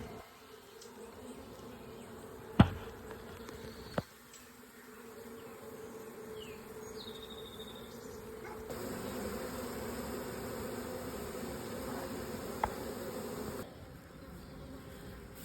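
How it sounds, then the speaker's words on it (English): A honey bee swarm settled on a trailer tire buzzes steadily and close throughout, with a few sharp knocks early on and the hum thickening partway through. "And they're a little swarm before I can mess around with the tires."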